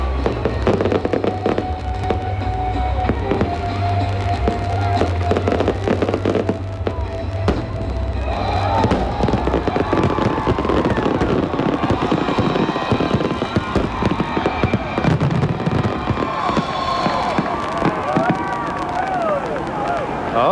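Fireworks crackle and pop overhead during the 1996 Hacienda hotel implosion event in Las Vegas, loud dense bursts throughout with a crowd murmuring and a voice talking over them.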